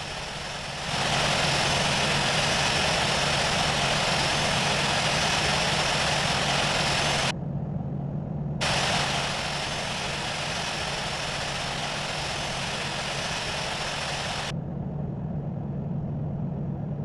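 An airliner's jet engines drone steadily while it taxis to runway 16 in the Infinite Flight simulator. The broad, loud roar holds constant, with a short dip in the middle.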